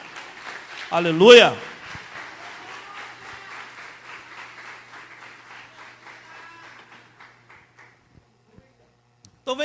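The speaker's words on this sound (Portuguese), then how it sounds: "Você pode aplaudir ao Senhor aí, amém?" A church congregation breaks into clapping after a shouted exclamation, the applause starting strong and gradually thinning out into scattered claps before fading to near silence.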